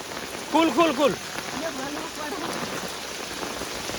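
Steady heavy rain drums close by in a village storm, a loud continuous hiss throughout, with a voice briefly calling out over it near the start.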